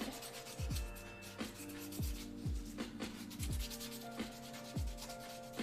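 Rhythmic rubbing strokes of sanding a cosplay craft piece, repeated about twice a second, close and moderately loud with no talking.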